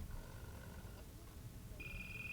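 A telephone rings faintly with a couple of short electronic tones, then a sharper higher tone near the end, over quiet background noise.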